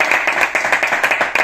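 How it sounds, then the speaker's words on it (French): Quick, distinct hand claps sound close and fairly loud in a rapid, slightly uneven rhythm, applauding Olympique de Marseille supporters on a football show. "vous méritez un gros applaudissement"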